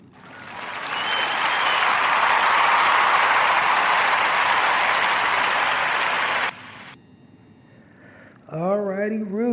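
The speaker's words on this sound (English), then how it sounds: "give a warm round of applause for" A room erupts in warm applause for a podcast guest, a dense, steady wash of clapping that swells and holds for several seconds, then cuts off abruptly into near quiet before a voice begins talking.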